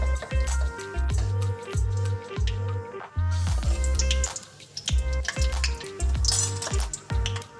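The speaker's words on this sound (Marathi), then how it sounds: "आता आपलं तेल गरम झाले आपण याच्यात राई टाकून घेऊ राईला थोडं फुटून देऊ" Mustard seeds spluttering in hot oil in a pan, a dense crackling and popping sizzle with repeated rhythmic bursts, close and fairly loud, no voices.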